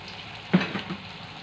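Potato mixture for Sundanese perkedel frying in a preheated non-stick pan, a close sizzle with a brief louder burst as it meets the hot oil, then a steady crackle fading back to a low hiss.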